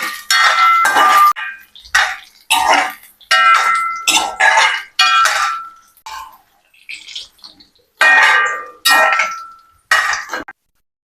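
Grated beetroot stirred in a hot pan: a series of loud, close metallic scrapes and clanks from the spoon, coming in separate bursts with short pauses between them.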